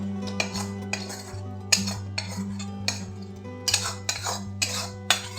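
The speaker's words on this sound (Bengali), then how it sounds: "একটু মাঝখানটা সরিয়ে নেব আমি আর যে মশলা আলুটা করে রেখেছিলাম সেটা দিয়ে দেব" Rice being pushed aside in a cooking pot and spiced potatoes added for a veg biryani, with repeated metallic scrapes and clinks of a spoon against the pot over a steady low hum, no talking.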